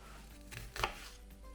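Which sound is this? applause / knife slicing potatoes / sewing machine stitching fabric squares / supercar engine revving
knife slicing potatoes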